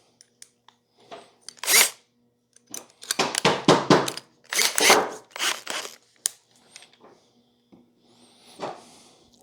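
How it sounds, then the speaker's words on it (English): Power drill driving a half-inch bit into wood to bore a shallow hole for a screw, heard as several short whirring bursts with brief pauses between, fairly close and alone. "drill bit that appears to be just about the same width as the diameter of that screw"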